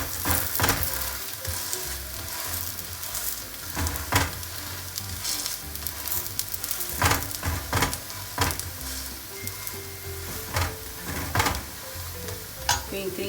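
Sindhi koki flatbread frying in a pan, pressed and poked with a ladle: steady loud sizzling throughout, broken by repeated scraping and tapping knocks of the ladle against the pan.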